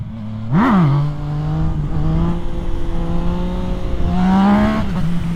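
Race motorcycle engine revving hard as the rider pulls a wheelie, a loud rising and falling pitch with a sharp blip early, then sustained high revs and another surge near the end, alone without talk.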